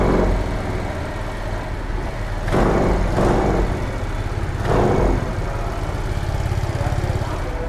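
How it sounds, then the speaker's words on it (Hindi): Aprilia SR125 scooter engine running steadily nearby, a continuous low drone with a few louder revving swells, without speech. "तो ये हमारी हो जाती है SR125 की आवाज।"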